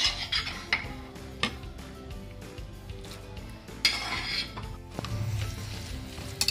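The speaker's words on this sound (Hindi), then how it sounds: "अब वेजिटेबल सारी इसमें मिक्स करके पकानी है।" Vegetables being mixed into a chicken-powder sauce in a pan over medium flame for creamy cutlets, with soft sizzling, spoon scrapes and occasional clinks of utensil against metal, fairly close and steady, no voices.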